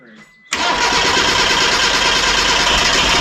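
Car engine cranks briefly and catches, settling into a loud, steady run right after a 5-speed manual transmission swap, heard close up and alone.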